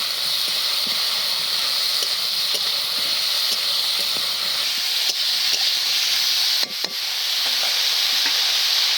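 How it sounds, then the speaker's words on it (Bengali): Fish curry with turmeric, salt and green chillies fries in a pan, giving a steady, close, loud sizzle with faint stirring scrapes and an occasional clatter, no voices. "সব কিছুকে খুব ভালো করে ভাজবো।"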